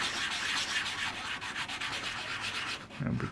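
Brisk strokes of a medium sanding stick rasp back and forth against a small model ship part, close and continuous, ending with a brief low bump.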